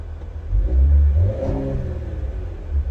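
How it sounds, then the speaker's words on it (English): A Cadillac CT5-V engine revs up close with a deep rumble that rises and settles, a thin turbo whine riding above the growl. "Now rev it a little."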